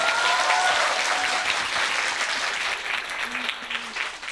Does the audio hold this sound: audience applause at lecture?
yes